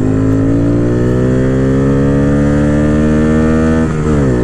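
A 2022 Honda Grom motorcycle with cam, intake and ECU flash mods revs hard and loud up to 10,000 RPM, its engine pitch climbing steadily before a brief dip near the end.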